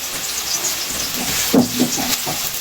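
Browned onions sizzling in a pan on a stove while cooking a Pakistani mixed vegetable dish, a steady loud hiss with a brief clattering burst midway.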